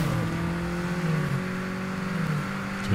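Car traffic in the Super Street racing game: a steady engine drone with sustained tonal hum and revving, continuous and moderately loud throughout, with no talk.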